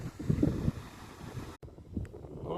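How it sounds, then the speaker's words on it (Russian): Wind rumbles against the microphone at a fishing spot, a low blustery roar under faint background sounds, with one sharp dropout midway. "Ветер, конечно, ужасный"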